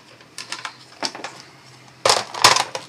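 Cutting a small piece off sticky book spine material makes a few quick, close snipping and crunching sounds, with light clicks first and then two louder crunchy bursts near the end.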